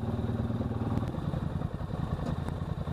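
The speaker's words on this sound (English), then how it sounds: "All right, a little bit of throttle." A Polaris 850xp off-road vehicle engine runs steadily in low gear, a close, continuous mid-pitched rumble with light clatter throughout.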